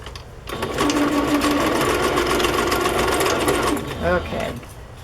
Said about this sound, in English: I switched from zigzag to straight, and when I started sewing, the needle moved position to off of the cardstock.